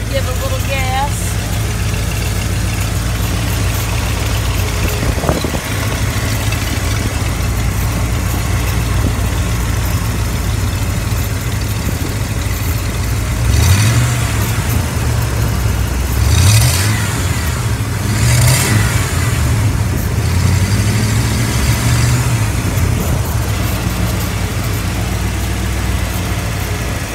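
A 5.8L Ford Bronco engine runs at a steady idle, then gets a few brief revs, with a person talking over the engine noise.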